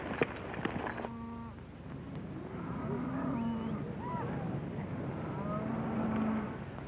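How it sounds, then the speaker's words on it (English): A herd of cattle moos in the open, several drawn-out calls overlapping at moderate distance over a low shuffling bed of hooves and movement, with no talk. "Nice-looking bunch of cattle"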